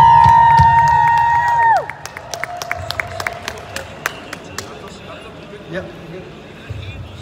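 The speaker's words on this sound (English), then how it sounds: "So let's give that man a round of applause" Sustained singing or held tones over crowd noise give way to scattered clapping and cheering from an audience at a community gathering, with sharp individual claps and shouts trailing off.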